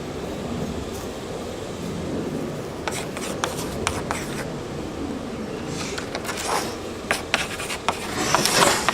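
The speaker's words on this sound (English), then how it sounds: "mark the top one the top and the bottom one the bottom" A pencil scratches and rubs in short strokes across the wooden side panels of a kitchen corner cabinet, close and fairly quiet, with small taps and scuffs mixed in and no talking.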